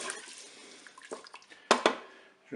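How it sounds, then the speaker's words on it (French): Beef stock broth made from water and a bouillon cube poured into a Cookeo pot, a faint trickle at first, then a few louder splashing pours near the end. "Je vais verser mon bouillon de 300 ml d'eau avec le cube de bouillon de bœuf"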